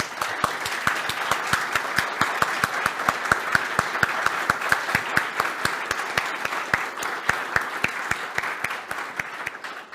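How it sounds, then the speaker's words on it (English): Audience at a community summit opening talk applauding, a dense, steady burst of many hands clapping continuously and fairly close. "Let's direct some applause their way."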